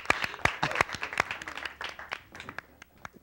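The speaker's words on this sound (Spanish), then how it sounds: "Un aplauso para" Studio audience applause on a 1990s Monterrey TV program, with loud, uneven bursts of clapping from a small crowd that thin out and grow sparser toward the end.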